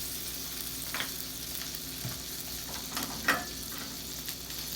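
Butter and olive oil sizzling in a hot pan on a lowered flame, a steady close crackling fry with occasional sharper spits and pops, no talking.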